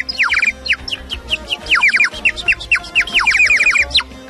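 A water-filled bird whistle trills loud and close in quick warbling bursts that mimic a nightingale, repeating rapid chirps with brief pauses over a low background hum.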